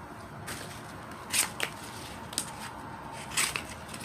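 An M390 steel knife slicing through cardboard, a few quick, crisp swishing cuts spaced about a second apart over quiet room tone, with no talking.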